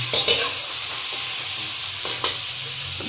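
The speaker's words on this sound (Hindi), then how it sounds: "अब इसको भी साथ में हम भून लेंगे" Chopped tomato fries in a handi together with masoor dal, giving a close, steady sizzle. Several sharp stirring scrapes stand out along the way, and there is no speech.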